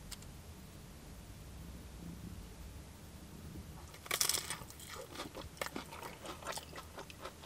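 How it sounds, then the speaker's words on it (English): Biting into battered sausage dipped in curry sauce at a fish and chip shop: a sudden crunchy bite followed by several seconds of soft, close chewing with no talking. "Let's dip the battered sausage in and see what that's like."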